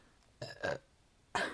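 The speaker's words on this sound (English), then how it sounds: "I might be the one to burp this time with my stomach problems." Two loud, close burps come one after another, the first a double gurgle and the second a short belch a moment later, with near silence around them.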